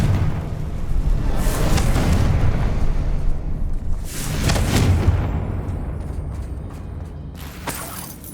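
Two heavy explosive blasts from the Confringo spell in Hogwarts Legacy boom a few seconds apart, each a loud, broad rumble that fades slowly, followed by a softer burst at the end.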